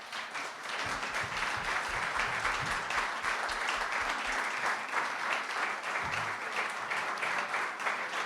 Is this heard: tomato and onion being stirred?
no